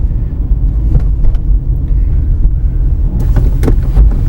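A manual car's engine rumbles steadily up close as the driver clutches in at about 2,500 RPM and shifts up into third gear, with a few brief clicks and knocks near the end.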